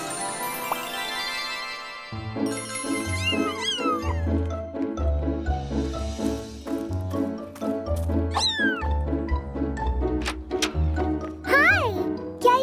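Kittens meow repeatedly in short, high, rising cries over a steady musical backing with a rhythmic bass, their calls scattered and overlapping throughout.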